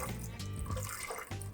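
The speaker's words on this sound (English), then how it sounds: "Water." Water pours into a pressure cooker holding chickpeas and a spice bundle for chana masala, a steady close splashing fill lasting the whole moment with no talk.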